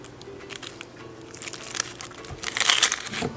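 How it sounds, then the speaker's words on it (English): Papery skin being peeled off a yellow onion, a close run of dry crinkling and crackling that starts soft and builds into denser, louder crunches near the end, with no voices. "We're gonna take tops off our onion. This allows us to peel the skin back."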